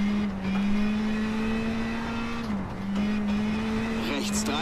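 Audi rally car in WRC 10 on the Monte Carlo rally stage, a steady high engine drone with a brief dip in pitch as it shifts, loud and continuous.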